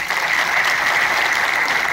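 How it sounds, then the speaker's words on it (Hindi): Loud, steady applause fills a large convention hall in Mumbai as an audience claps for a speaker at a business gathering, a dense continuous roar of many hands with no talk over it. "जोरदार तालियां"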